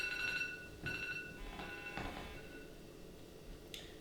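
A film development timer beeps in short bursts, a few quick electronic rings in a quiet room, alone and fairly faint.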